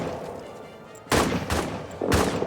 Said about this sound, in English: we've got general suppression fire going on right now